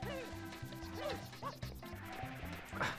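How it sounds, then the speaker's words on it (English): Cartoonish dog barks and yips in Super Mario Sunshine repeat in a quick, bouncy rhythm over game music, with players talking faintly in the background. "How do you like to be serenaded by dogs?"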